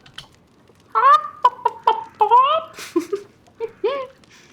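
Chickens cluck in a video game while being petted, a run of short, bright clucks and squawks in quick succession, close and clear with quiet gaps between.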